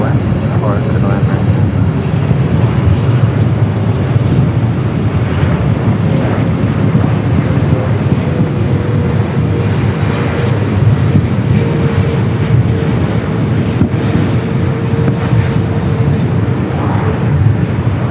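Heavy airliner such as a Boeing 777 or Airbus at LAX, taking off or landing at night: a loud, continuous engine roar with broadband rumble that holds steady throughout, roughened by wind buffeting on the microphone.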